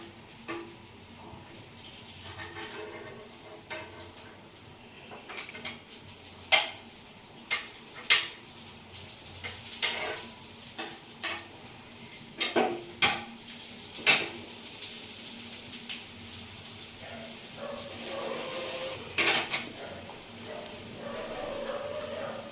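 Brinjal rava slices fry in ghee in a pan after being flipped: a steady soft sizzle runs throughout, broken by scattered clinks and scrapes of a utensil against the pan, close by, with no talking.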